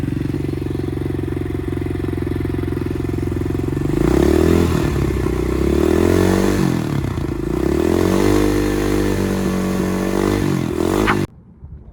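A loud Apollo RXF 125 dirt bike engine fitted with a new exhaust pipe idles steadily, then revs up and down in several rising and falling swells before cutting out abruptly.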